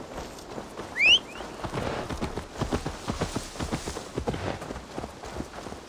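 Steady clip-clop of horse hooves trotting in a quick, even rhythm in Assassin's Creed Valhalla, with a brief high whistle-like chirp near the start over an ambient game bed.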